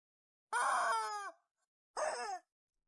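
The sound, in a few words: painful chicken scream from a sound wave weapon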